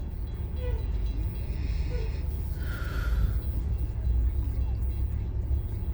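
A freight train with a green locomotive rumbling past at a rail crossing, a continuous low roar of wheels and cars with a brief higher squeal midway.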